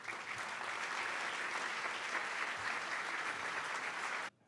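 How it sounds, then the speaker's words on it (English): An audience at a business hall of fame awards event claps in loud, dense, sustained applause that cuts off abruptly near the end. "So would you give a big round of applause,"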